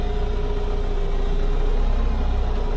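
A McCormick X4.70V tractor engine pulls away in first gear, a steady mid-to-low diesel drone with a constant hum, holding even and fairly loud throughout with no voices.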